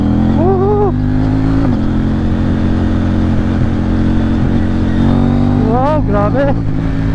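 A KTM Duke 790 motorcycle fitted with an Akrapovic exhaust pulls hard in second gear, its engine note rising and falling through steady acceleration, loud and close, with rider talk heard over the engine near the start and end.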